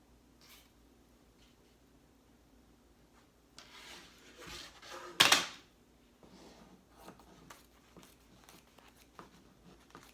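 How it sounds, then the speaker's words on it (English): Scissors cut through embroidery stabilizer in a loud crunchy burst around the middle. Quieter rustles, snips and handling noises come before and after it. "let's cut the stabilizer"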